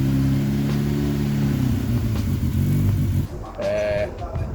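Engine of a Locost 7 kit car runs loud and steady with a rough low drone, then the sound dips and shifts near the end as the revs change, close by and with no talk.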